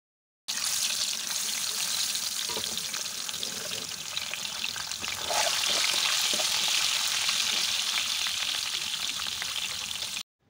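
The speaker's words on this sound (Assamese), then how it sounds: "তেলখিনি গৰম হওঁতে তাত এটা এটাকে কণী দি দিলো" Eggs fry in hot oil in a wok, a loud, continuous, close crackling sizzle that swells slightly partway through and then stops abruptly.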